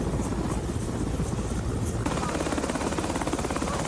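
Helicopter flying aid to earthquake-hit villages around Gaziantep, a steady loud rotor thump and engine drone filling the whole stretch without pause.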